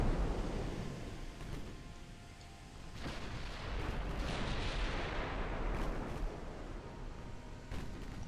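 Warship guns fire in the naval video game Ultimate Admiral Dreadnoughts, a continuous loud rumbling roar of heavy booms blending into one another with no voices.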